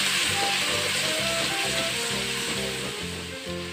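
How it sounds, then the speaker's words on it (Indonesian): Garlic sautéing in hot oil for Surabaya-style vegetable spring rolls, a loud, steady close-up sizzle with soft scraping and stirring in a pan. "Ini pertama saya tumis bawang putihnya"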